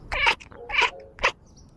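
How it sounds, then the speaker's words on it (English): Cats playing give out a few short, close meows or chirps in quick succession, three brief bursts with pauses between them. "That's nice seeing cats doing cat stuff."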